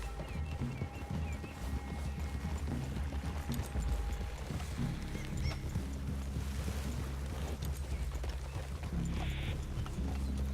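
Horse hooves clip-clopping at a walk in the video game Red Dead Redemption 2, soft irregular thuds under a low ambient rumble and wind-like outdoor background, fairly quiet, no talking.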